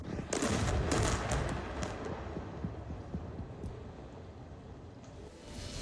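An Israeli airstrike in southern Lebanon booms loudly near the start, followed by scattered thuds and crackling debris that fade into a lingering rumble.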